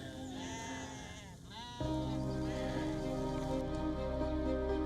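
Sheep bleat in sustained, wavering calls at a refugee settlement in Bangladesh, one drawn-out cry giving way to a louder, steadier bleat, with a patter like rain in the background.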